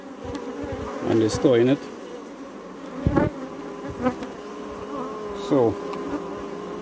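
Honeybees hum and buzz around an open hive as foragers bring in nectar, with steady close buzzing and a few louder passes near the ear while someone talks quietly over them.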